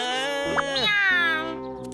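A cartoon cat gives a single drawn-out, wavering meow over steady background music from a Tamil comedy cartoon, close and clear.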